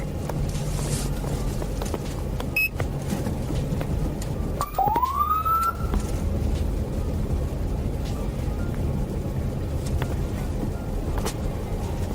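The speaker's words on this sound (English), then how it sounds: "The officer immediately activated the emergency lights and sirens, signaling the driver to pull over." A police car siren during a chase rises in a brief upward wail near the middle, fairly faint over steady road and engine rumble, with no talk.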